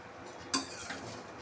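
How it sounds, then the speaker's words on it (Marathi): Spoon stirring vermicelli milk kheer in a metal pot, one sharp clink of metal on metal followed by a softer scrape, close and fairly quiet, with no talking. "चम्मचने फिरवणार आहे."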